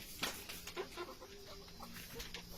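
Fourteen chickens being moved on a rural Filipino farm, with faint, scattered clucks and short calls over a steady background hum, no clear voices.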